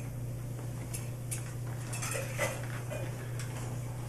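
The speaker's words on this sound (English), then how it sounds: "I also carry my canteen for my water." A metal Civil War canteen made of two welded dishes is handled quietly, giving a few faint light clinks and taps over a low steady hum.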